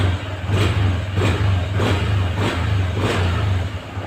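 A Honda Beat FI motorcycle engine, just repaired after sputtering, is revved in several quick throttle blips over a steady low idle, close and fairly loud, with no talking.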